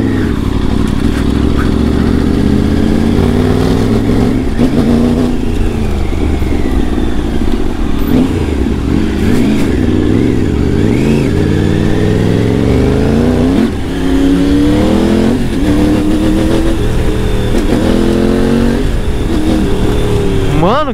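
A new motorcycle's engine revs and accelerates loudly and continuously, ridden over a speed bump, with excited voices talking over it throughout.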